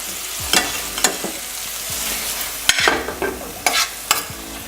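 Chicken breast sears in a pan with a steady sizzle, broken by several bursts of scraping and stirring as the pieces are pushed around, each stroke loud and close.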